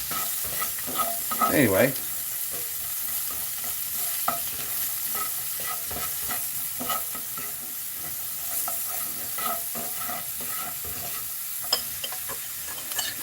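Onions sauté in a pan with a continuous close sizzle broken by scraping stirs and occasional spatula knocks. A single brief spoken word interrupts early on.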